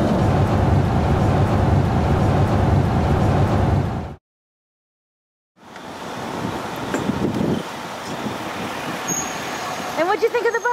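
Bus carrying a startup hackathon team rolling along a road, a steady loud engine and road rumble that cuts out briefly to silence, then resumes with some rattles and voices.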